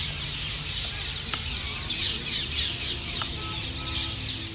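A flock of parrots settles in trees at dusk near Matrugaya Tirth and Bindu Sarovar, filling the air with dense, continuous high chirping and squawking, a steady chatter with a sharp call standing out now and then.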